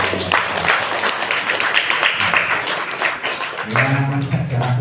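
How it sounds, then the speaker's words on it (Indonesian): A crowd at an Islamic religious gathering claps in a dense, continuous patter that stays loud and steady, with voices murmuring underneath and a deeper voice surfacing toward the end. "Tepuk tangan untuk"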